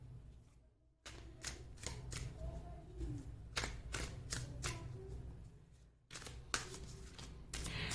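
Tarot cards are shuffled and drawn, giving a quiet series of soft slaps and riffling flicks in short bursts with brief pauses, close by and with no talk.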